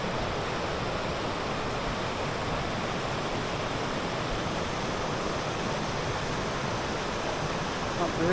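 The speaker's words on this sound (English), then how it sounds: "it looks like there's a bit of a waterfall." Waterfall pouring near a pool, heard as a steady, unbroken rush of water that stays even and fairly loud throughout.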